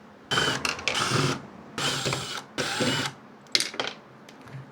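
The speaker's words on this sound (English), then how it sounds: "there are screws. 1, 2, 3, and 4. So let's remove those." Screws are backed out of interior wood trim on a Lexus GX, with quick clicking ratchet bursts in several short separate runs, close and fairly loud, with quiet gaps between them.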